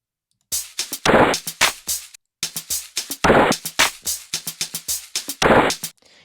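A music loop slowed down with Logic Pro's speed effect, heavy, dragged-out drum hits and thick noisy bursts in a lumbering groove, pausing briefly after the first bar, close and loud without any voice.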